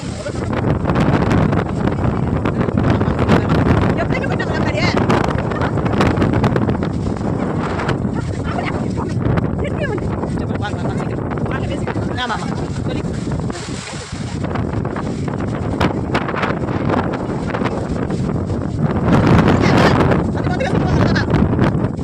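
Strong wind sweeping a beach at Nagapattinam during a small cyclone, a loud continuous roar buffeting the microphone with heavy low rumble, easing slightly midway and surging again toward the end.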